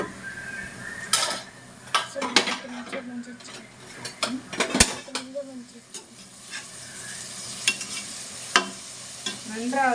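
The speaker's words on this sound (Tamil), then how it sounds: "நன்றாக பொன்னிறமாக வெங்காயத்தை வதக்கவும்" Onions frying in a pan for biryani, with a steady soft sizzle under frequent scraping and stirring clatter of a spoon against the pot, close by.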